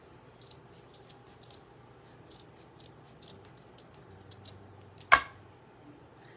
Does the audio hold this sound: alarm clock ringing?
no